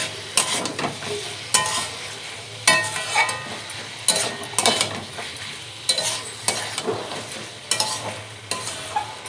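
Diced potatoes and chicken for a chicken singara filling are stir-fried in a pan, with a steady sizzle broken by repeated scraping strokes of a spatula at a regular rhythm, close and alone.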